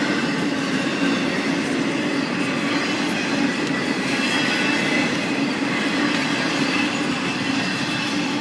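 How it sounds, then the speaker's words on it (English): A Norfolk Southern freight train rumbles steadily past close by a vintage signal, a continuous loud roar of wheels on rails with faint rhythmic clacking throughout. "Here comes the end of the train."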